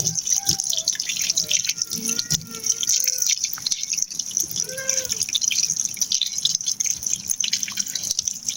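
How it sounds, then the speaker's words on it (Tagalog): Freshly picked lemongrass and ginger get rinsed under running water, with drips, splashes and gurgling trickles rising and falling close by at a sink, no talking over it. "hugasan ko na yung kinuha kong tanglad at luya"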